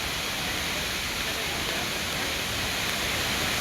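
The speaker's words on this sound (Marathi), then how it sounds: "जव्हार हिल स्टेशन दाबोसा धबधबा या नावाने ओळखले जाते हे धबधब्याला." Dabhosa waterfall at Jawhar hill station in Maharashtra, heard as a loud, unbroken roar of falling water that fills the whole stretch evenly.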